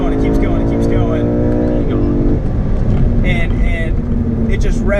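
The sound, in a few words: BMW M3 engine revving high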